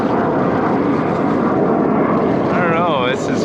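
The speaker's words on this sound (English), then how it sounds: "Another jet up there" A jet aircraft passes high overhead outdoors, a steady broadband roar that holds throughout, with a faint whine rising near the end and a person talking over it.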